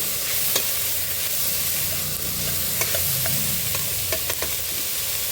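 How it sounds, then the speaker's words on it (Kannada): Onions and four chillies frying in a little oil are stirred in a pan, a continuous close sizzle broken by scraping and clinking from the spoon, with nobody talking. "ನೋಡಿ 4 ಚಿಲ್ಲೀಸ್ ಹಾಕೊಂಡು ಮಿಕ್ಸ್ ಮಾಡ್ಕೊತಾ ಇದ್ದೀನಿ."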